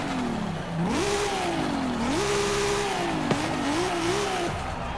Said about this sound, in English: Let's give her a quick rev here.